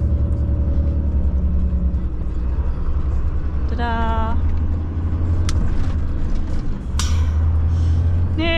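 A big van threads through traffic, its engine and road rumble droning steadily up close, with a couple of brief higher tones and a voice speaking briefly over it.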